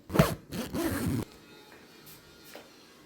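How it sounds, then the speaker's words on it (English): A suitcase zipper pulled shut in two quick close strokes, loud and near, followed by quiet rustling and faint handling noises. "It's gonna zip real easy."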